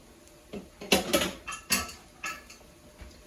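Shrimp, broccoli and brown rice are stirred in a pan over a gas flame, giving a handful of irregular utensil scrapes and clinks that stand out over a quiet background.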